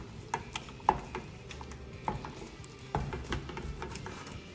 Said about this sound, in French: on va tourner avec la cuillère en bois